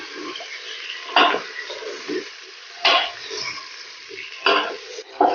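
Grated carrots with crushed cardamom being stir-fried for gajar ka halwa, a soft dry sizzle under repeated loud scrapes of a spoon against the pot at irregular intervals.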